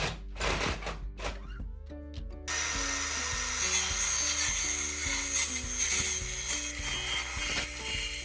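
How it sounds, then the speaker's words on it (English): A Japanese carpenter pries and cuts away a back door's frame and trim from the wall, with repeated close wooden knocks, scraping and rubbing, set against a steady background. "carefully remove only the frame and trim"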